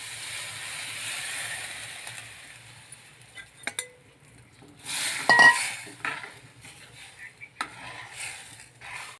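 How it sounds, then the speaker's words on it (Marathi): Utensils clink and scrape against a pot as soaked gram-flour (besan) batter is stirred into boiling water, with a brief bubbling burst midway; quiet, close-up kitchen sounds with no talking. "आता पाण्याला छान उकळी आलेली आहे. त्याच्यामध्ये हे भिजवलेलं बेसन होतं ते घालून द्यायचं."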